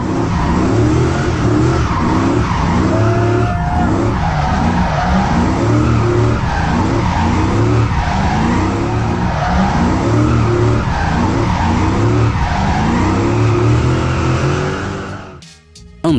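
Customized Nissan GT-R R34 skidding through a stunt-driving run, tires squealing continuously over a loud, revving engine that rises and falls in repeated surges for about fifteen seconds before cutting off abruptly.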